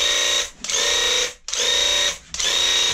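A Graco Ultra handheld airless paint sprayer spraying in three loud, close bursts of steady hissing buzz, each about half a second to a second long, separated by short silent gaps.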